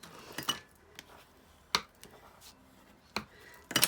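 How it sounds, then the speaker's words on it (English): A window blind knocked about by a breeze, giving scattered metallic clanks and rattles in irregular bursts, fairly faint, against a quiet room background with no talking. "So first, that's my blind banging."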